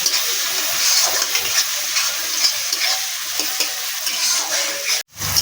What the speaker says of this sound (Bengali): হলুদ গুঁড়োটাকে ভালো করে তেলের সঙ্গে টমেটোর সঙ্গে ভালো করে ভেজে নেবো